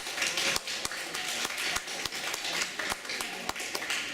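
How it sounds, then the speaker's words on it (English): Polite audience applause for new members' family and friends at an induction ceremony: a modest room of steady clapping, with sharp individual claps standing out in an even patter. "can we give those family and friends a round of applause?"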